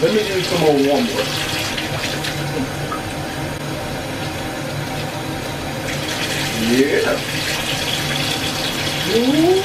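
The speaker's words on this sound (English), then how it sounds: "Let me use some more warm water." Warm water runs from a tap into a bathtub in a steady, close wash that continues for the whole stretch, with a voice and chatter rising over it now and then.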